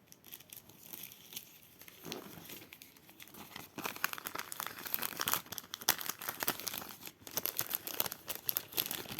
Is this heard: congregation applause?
no